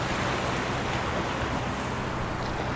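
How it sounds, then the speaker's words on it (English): Ocean waves break over a sandbar just off a fishing beach in a steady, dense roar of surf and wind, loud and unbroken throughout. "You can see the water's breaking right in front of me"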